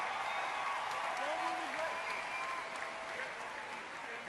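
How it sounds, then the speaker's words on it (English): A crowd at a BlizzCon dance contest claps steadily in a dense, even roar of applause, with voices mixed into the noise throughout. "That definitely deserves a big round of applause"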